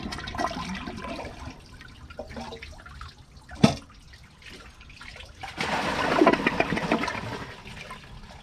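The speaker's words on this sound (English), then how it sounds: "Here's the flush with the whatever water is left in the tank." A Kohler Wellworth Class 5 toilet from 2009 flushing on the partial water left in its tank, with a sharp clunk of the handle, then a rising rush and gurgle of water that swells and drains away nearby.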